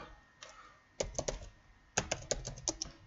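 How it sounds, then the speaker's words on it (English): Computer keyboard keys are pressed in quick irregular clusters, close and crisp clicks with short pauses between bursts. "I'm gonna type in"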